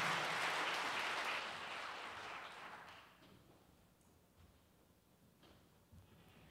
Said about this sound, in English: Clap for Mari Fields